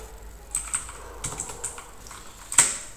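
Keys clatter on a computer keyboard while a Windows search is entered from the Start menu, a few scattered taps followed by a short burst and a sharper final keystroke, fairly close with no talking.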